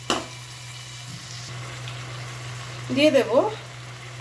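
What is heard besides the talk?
spice paste (masala) being fried in a pan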